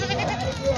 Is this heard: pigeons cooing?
no